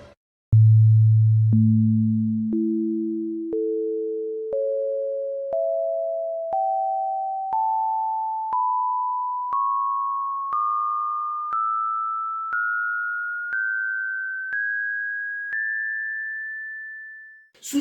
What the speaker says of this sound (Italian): questi suoni, questi armonici naturali, sono dei suoni che compongono qualsiasi suono che noi percepiamo